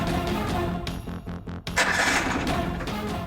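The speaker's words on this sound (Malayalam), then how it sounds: "വണ്ടിയുടെ എഞ്ചിൻ കംപ്ലൈന്റ് സാറേ." Vehicle engine with a complaint struggling to start, a few sputtering cranks and rough bursts, with brief dropouts, then catching into a louder rattling surge, close and moderately loud.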